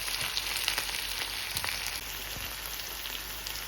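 Vegetables with coriander, parsley and other herbs frying in oil for a seafood paella, a steady close sizzle crackling throughout with a few sharper pops and no talk.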